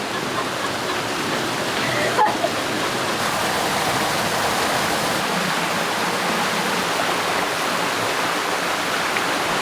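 Creek water rushes steadily where it meets the main stream leading to a waterfall near Coffs Harbour, Australia, a loud, dense, continuous roar from close by with no talking.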